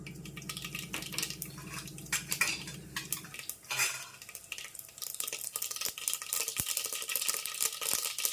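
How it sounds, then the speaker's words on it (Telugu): Mustard seeds dropped into hot oil for tempering an eggplant curry: metal utensil clinks and pan scrapes come first, then a crackling sizzle with sharp pops that grows denser toward the end, close up and with no talking. "ఇప్పుడు ఆయిల్ హీట్ ఎక్కింది, ఆవాలు వేసేద్దాం."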